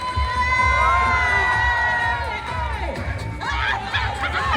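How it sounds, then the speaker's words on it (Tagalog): Crowd at a 70th birthday celebration in an event center cheers and shouts loudly, with whoops and excited voices rising over a steady roar of applause for several seconds. "Isang malakas ng palakpakan na maraming kasamang sigawan!"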